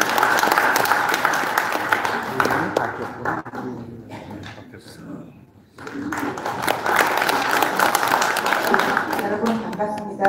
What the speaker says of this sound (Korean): 여러분 큰 박수를 부탁드리겠습니다.